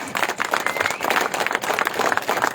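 A crowd at a Tamil political rally claps loudly and steadily, dense applause in uneven waves that carries on without a break.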